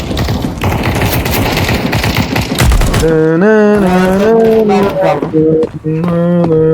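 An automatic rifle sprays continuous rapid fire in the shooter game Counter-Strike, a loud, dense burst lasting about three seconds, then gives way to a sustained tonal, voice-like sound.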